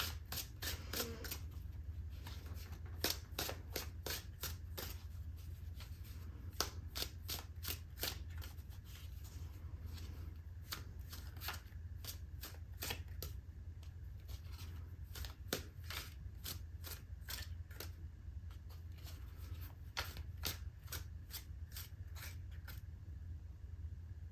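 Tarot cards are shuffled by hand in a long, steady run of crisp riffling flicks and slaps, close and quiet with no talking.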